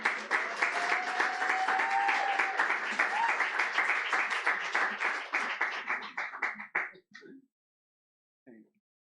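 Audience at a Southern California poetry festival reading breaks into sustained applause, a dense wash of clapping that gradually thins and fades out, followed by a few scattered claps.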